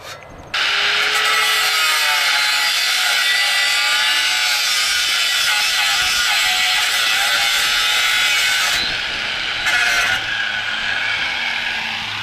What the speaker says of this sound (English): So I'm going to just grind those off.